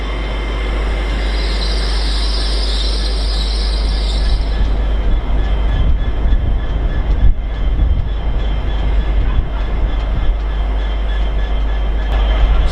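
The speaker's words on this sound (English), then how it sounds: "that is a very packed Lumo service from Edinburgh to King's Cross" Lumo class 803 passenger train 803002 from Edinburgh to King's Cross rushes past on the East Coast Main Line, a loud, steady roar of wheels and rails with high squealing early on, filling the whole stretch.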